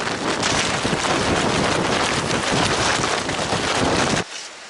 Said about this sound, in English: Still terribly windy, but not as bad as it was.